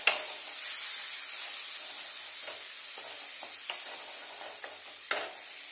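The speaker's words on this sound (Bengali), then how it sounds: "যতক্ষণ তেল না ছাড়ছে ততক্ষণ অবধি কিন্তু আমাদের মশলাটা ভালোভাবে মিক্সআপ করতে হবে।" Curry masala for chicken curry is stirred and fried in a pan. A soft, steady sizzle runs throughout with occasional light scrapes and a couple of sharper clacks of the spoon, close but fairly quiet.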